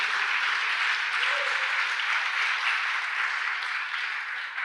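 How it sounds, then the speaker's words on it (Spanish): Audience applauding, a dense, even roar of many hands clapping that stays loud and steady throughout with no talk over it. "Dale un aplauso a mi esposa."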